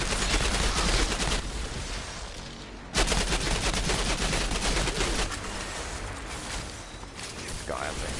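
Gunfire rattles through a firefight in the Outriders video game, with dense bursts of automatic shots and heavy impacts in quick succession, loud and close for the whole stretch, with a brief lull in the middle.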